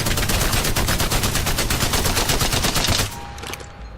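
A light machine gun in Apex Legends fires on full auto as one loud, rapid, unbroken burst of evenly spaced shots, followed by a brief decaying tail after the firing stops.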